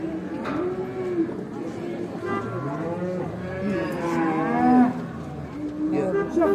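A cow moos repeatedly at a busy livestock bazaar in Karakol, the long low calls rising and falling close by, with people talking and chattering underneath.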